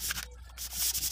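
Steady scratchy rubbing of 1000-grit sandpaper on a varnished wooden cabinet, close and continuous with brief dips in intensity, no voices.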